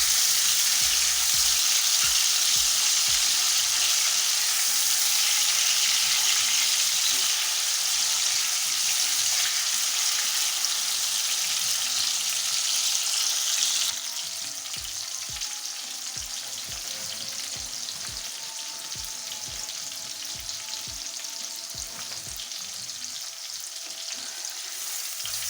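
Aloe vera halwa frying in a pan, a loud, continuous sizzle with occasional stirring scrapes that drops slightly in level about halfway through as the heat is lowered, with no speech.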